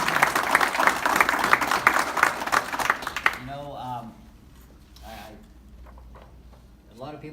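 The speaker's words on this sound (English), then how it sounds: "Let's give Ken a round of applause." A crowd at an auto dealership event honoring veterans claps for a Vietnam-era veteran, a dense burst of applause lasting about three seconds that stops abruptly, followed by someone speaking alone.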